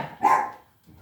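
A single short dog bark sounds close by, loud and isolated, followed by a faint trailing noise.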